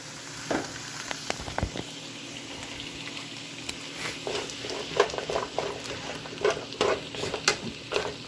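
Chicken and carrots stir-frying in a pan give a steady close sizzle, with clicks and scrapes from stirring that grow busier toward the end.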